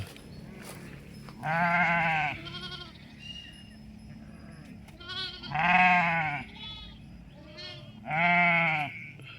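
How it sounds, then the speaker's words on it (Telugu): Sheep bleat loudly nearby, three long wavering calls spaced a few seconds apart, with quieter bleats from the flock in between. "ఎక్కడ చూసినా గొర్రెలే ఉన్నాయి"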